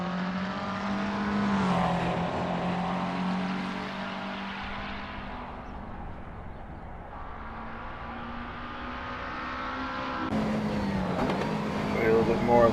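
McLaren 650S GT3 race car engine on the Nordschleife in Assetto Corsa, a continuous loud drone that rises and falls with revs and gear changes, with someone talking over it.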